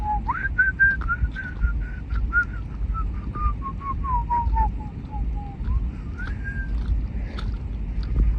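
Someone whistles a wandering, sliding tune steadily and fairly close, with muffled background noise and small clicks throughout.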